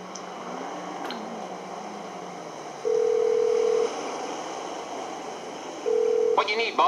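A phone dial tone in GTA 5 Online, a steady tone sounding in two short bursts under faint game ambience before the call connects.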